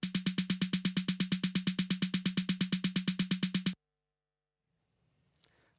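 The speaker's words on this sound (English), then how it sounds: "We put now 32 hits of this one digitally sampled drum" A single digitally sampled drum struck 32 times in a fast, perfectly even loop, each hit identical and punchy, stopping abruptly into near silence.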